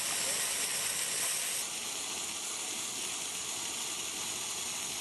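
Liquid CO2 escapes through an open purge valve as a cylinder transfer line depressurizes, a loud continuous close-up hiss that steps down slightly in strength early on and then holds steady.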